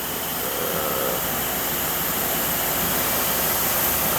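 A CNC mill engraves with a small ball-end mill, giving a steady, loud, broadband whir of spindle and cutting that runs evenly throughout without pauses.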